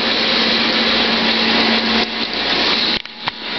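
A washing machine runs with a loud, steady whirring drone and a constant hum, then dips and falters briefly near the end with a few knocks.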